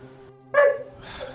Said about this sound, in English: this dog starts to fucking bark